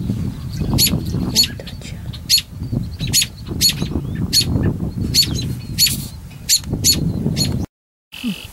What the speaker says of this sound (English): All the birds right now are nesting, and they don't really like me over here, as you can tell from the robins giving me heck